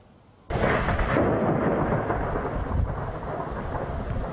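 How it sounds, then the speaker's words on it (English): A spring thunderstorm in the Sierra foothills near Auburn bursts in suddenly with a loud thunder crack, then heavy sideways rain and penny-sized hail roar steadily and close. "Lightning lit up the sky, pelting penny-sized hail and sending sheets of rain sideways."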